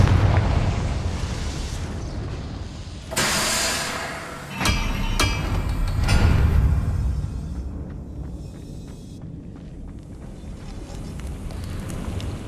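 The Confringo fire spell bursts in Hogwarts Legacy gameplay with a loud booming blast, followed by crackling fiery rumble and scattered impacts that fade into softer background noise.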